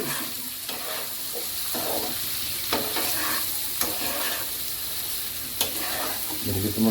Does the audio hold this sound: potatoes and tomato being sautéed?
yes